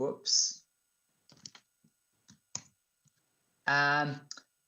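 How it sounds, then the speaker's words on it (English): Computer keyboard typing replayed from a demo clip, heard as sparse scattered clicks between brief bursts of talk, near and moderately loud. "Can you see my video of someone typing on a keyboard?"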